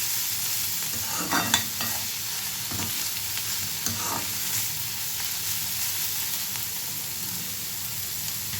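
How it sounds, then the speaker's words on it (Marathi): Masala sizzles and crackles as it is stir-fried in oil in a small home kitchen, a steady frying hiss broken by a few scraping stirs of the spoon, close and without talk. "मस्त मसाला खरपूस भाजायचा"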